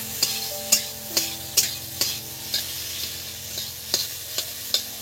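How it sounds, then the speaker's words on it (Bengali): Potato and pointed gourd mash being stirred in a pan, a soft steady sizzle punctuated by about a dozen sharp spatula taps and scrapes in an uneven rhythm, close by and without speech. "এবার এটা নেড়ে চেড়ে নেবো, এই দেখুন।"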